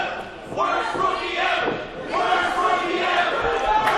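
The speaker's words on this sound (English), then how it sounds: "that's the crowd letting Argos know how they really feel." A wrestling crowd at an independent pro wrestling show jeers and shouts at a wrestler, a loud, sustained roar of voices with swelling peaks, close and continuous.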